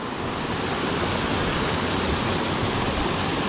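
Running water rushes steadily beneath a bridge on the Khopra Ridge trek, a dense, constant wash of noise that stays loud and close throughout with no voices.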